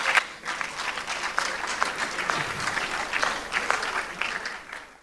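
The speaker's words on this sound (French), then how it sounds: "on peut les applaudir." An audience at a French anniversary event applauds performers, dense steady clapping filling the room for about five seconds at moderate loudness with no voices over it.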